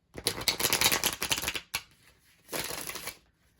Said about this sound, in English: And these are new cards, so a little bit difficult to shuffle.